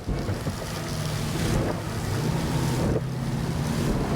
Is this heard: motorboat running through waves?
yes